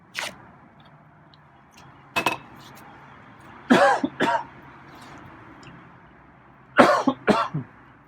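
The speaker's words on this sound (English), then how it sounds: "I coughed, I think" Several short, close coughs come in small clusters of two or three, separated by quiet gaps with faint background noise.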